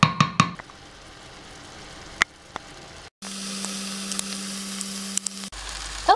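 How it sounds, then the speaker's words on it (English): Chopped onions and tomatoes fry in a pan on medium heat. After a quiet stretch with a few knocks, a steady, even sizzle rises, holds for about two seconds, then cuts off. "I'm going to put that on medium heat until I see the onions and the tomatoes have softened."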